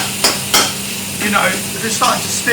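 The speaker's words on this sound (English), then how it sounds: "Now I'm using the back of my spoon just to mash it up, and then I'm mixing it." Raw keema mince being mashed with the back of a spoon and stirred in a pan with oil, giving a soft sizzle broken by a few sharp spoon knocks against the pan and scraping strokes.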